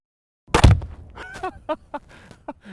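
Sharp mechanical crack as a KRISS Vector Gen 2 gun is taken apart, followed by several lighter clicks and knocks of parts being handled, close and spaced out, with no talking.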